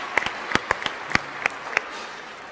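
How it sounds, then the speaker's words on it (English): Scattered claps from a small group, a handful of sharp hand claps spaced irregularly, thinning out toward the end. "So I think we should all give him a round of applause."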